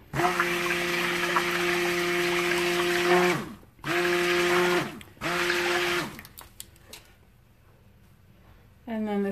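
A stick blender whirs in bursts while kaolin clay is mixed into cold process soap batter, several loud motor runs with short pauses between them, ending in quieter clinks and a final restart.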